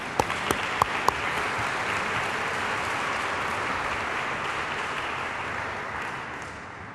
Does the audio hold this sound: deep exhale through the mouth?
no